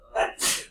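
A single sharp sneeze, a quick inhaled build-up followed by a hissing burst, close and fairly loud.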